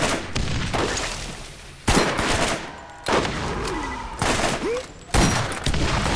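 A rocket launcher in the Borderlands video game fires in loud, repeated blasts, each with a whooshing tail. The shots come in bursts about a second apart amid game noise.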